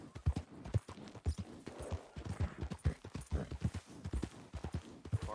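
Horse hooves clip-clop in a steady rhythm in Red Dead Redemption 2, close and fairly loud, with a few irregular beats and no voices.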